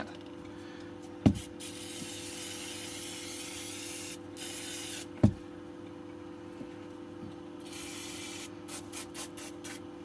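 Brake cleaner sprays in long steady hissing bursts onto the parts of a Suntour HESC CAN e-bike mid-drive motor during a teardown. Two sharp clicks stand out, and a quiet workshop hum sits underneath.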